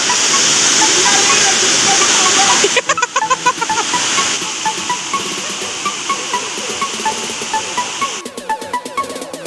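Siompin waterfall in Suro, Aceh Singkil pours in a loud, constant rushing hiss of falling water, steady throughout, with a brief voice heard faintly under the roar.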